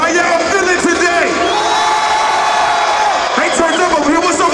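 A live hip-hop concert crowd at a show cheers, whoops and shouts loudly and continuously, a dense roar of many voices close and full throughout.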